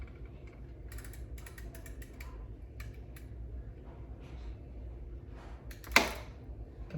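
A part is tightened onto a Skyway BMX wheel, giving a run of rapid ratcheting clicks and small mechanical creaks in bursts, ending in one sharper metallic snap as it locks in place.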